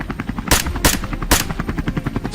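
Rapid gunfire from a helicopter during a wild boar hunt: three sharp, loud shots spaced about half a second apart, cracking over the continuous chop and whine of the helicopter.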